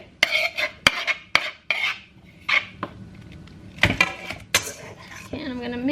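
A metal utensil clatters and clinks sharply against a large bowl while mixing pasta salad, with irregular bursts of scraping and tapping and a voice heard near the end.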